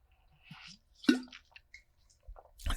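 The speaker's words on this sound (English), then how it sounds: "let me drink some more water" Water being drunk from a reusable bottle: a few close, soft wet gulps and squishy swallowing sounds with short pauses between, quiet and alone.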